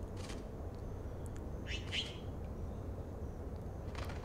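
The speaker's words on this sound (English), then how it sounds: "That bird again?" A bird in the Life is Strange video game chirps in a couple of short, bright tweets over a quiet low hum, with a few fainter calls around them.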